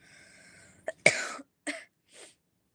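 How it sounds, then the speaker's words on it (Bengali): A person coughs several times in short, harsh bursts close by, with a quiet pause between each cough. "কাশি হচ্ছে খুব"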